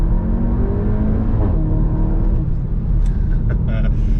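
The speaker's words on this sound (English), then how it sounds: "you get some really cheeky, subtle cracks out the back of this exhaust" ABT-tuned 350 bhp Seat Cupra Ateca Limited Edition SUV engine droning loudly from close by, the rumble shifting as revs change, with a few sharp pops and cracks from the exhaust late on.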